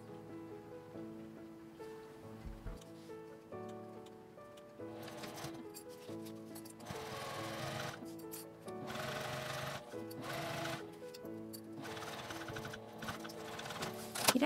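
Sewing machine stitching just below a zipper seam on fabric folded to the wrong side, starting and stopping in short bursts of rapid mechanical whirring, fairly quiet and close.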